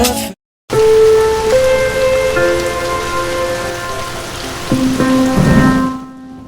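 Steady rain on a stormy night outside a bakery, a continuous loud hiss of drops on surfaces, with sustained musical tones layered over it.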